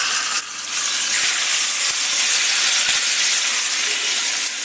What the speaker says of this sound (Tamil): ஒரு 2 கொத்து கருவேப்பிலை சேர்த்துட்டு தாளித்து கொட்டிடுவோம்